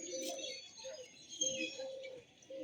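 Pigeons of several varieties calling: soft, low coos repeating in short phrases, faint and close by, with light chirps over a quiet background.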